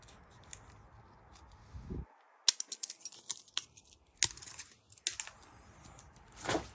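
Vinyl wrap being trimmed around a car door handle with a blade, giving a run of sharp close clicks and scraping snips after a quiet start, each cut brief and crisp.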